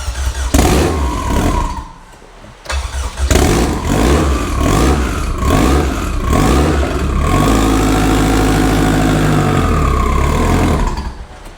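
A K-swapped, turbocharged Honda Civic engine idles roughly and is revved several times in quick blips, then held at a higher, steady drone, loud and close, with a brief dip in between.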